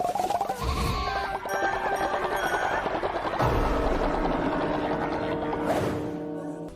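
Continuous sheep bleating from the video game Cult of the Lamb, with layered overlapping bleats over a steady droning game soundtrack, loud and sustained without pause.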